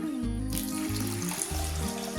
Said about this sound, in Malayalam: ഇനി ഇതിലേക്ക് നമുക്ക് വെള്ളം ഒഴിക്കാം.